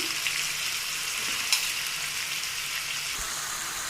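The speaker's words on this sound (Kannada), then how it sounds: "ಇವಾಗ ಸ್ವಲ್ಪ ಟೊಮೆಟೊನ ಫ್ರೈ ಆಗಿದೆ ಅದಕ್ಕೆ ಇವಾಗ ನಾನು ಬದನೆಕಾಯನ್ನು ಹಾಕ್ಕೊಳ್ತಾ ಇದ್ದೀನಿ" Brinjal pieces fry with tomato in a pan for a palya, giving a steady, soft broadband sizzle throughout with a couple of faint clicks and a small scrape, with no talk.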